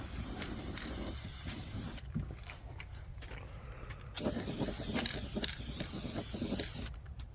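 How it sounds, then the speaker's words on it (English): Spray painting a Jeep XJ snorkel with gloss protective enamel, bursts of aerosol hiss of varying length separated by short pauses, fairly close. "Once we had the holes cut and sanded, it was time to mask off and paint."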